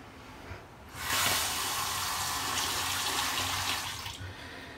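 Water pours in a steady, splashing stream for a few seconds, fairly close, starting abruptly and tapering off at the end.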